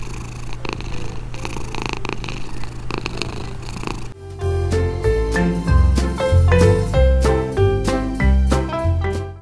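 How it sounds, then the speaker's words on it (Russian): A cat purrs in a steady, low, continuous rumble, close and even; about halfway through, music comes in and plays over the purring. "кошки могут мурлыкать, чтобы найти себе партнера"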